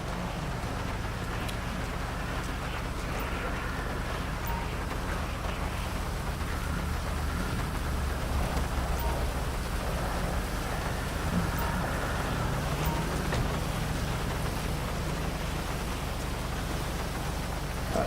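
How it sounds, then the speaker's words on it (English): Steady rainfall in the video game GTA V, a dense, even hiss of rain on surfaces with low rumbling underneath, unbroken and fairly close throughout. "And it's raining."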